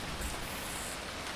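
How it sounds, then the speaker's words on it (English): Heavy rain pours down on a hostile alien planet in the game Phoning Home, a dense, even hiss of falling water that stays loud and steady throughout. "When the rain is pouring down."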